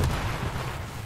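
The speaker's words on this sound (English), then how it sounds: "Grenade on me." A grenade explosion in the video game Call of Duty MW3, a single deep, rumbling boom that fills the short moment and decays without any clear speech.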